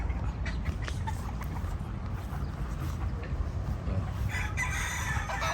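Chickens cluck and a rooster crows amid a busy farmyard background in Davao City, the calls scattered and moderately distant.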